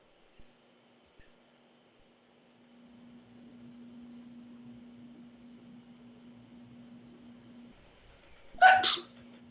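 A single sharp sneeze bursts out near the end, loud and close, after a long stretch of quiet room tone with a low steady hum.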